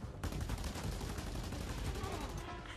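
Dense, continuous gunfire rattles from a military battle in the open-world video game Just Cause 2, a loud sustained barrage that starts abruptly and runs for under three seconds.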